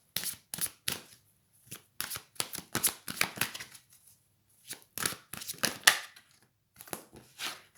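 Tarot cards shuffled and dealt at close range, a run of quick papery riffles and flicks in bursts with short pauses between them, no voice present.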